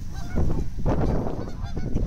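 Geese honking loudly and close at hand, a dense overlapping flock calling continuously, with ducks among them at a winter park setting.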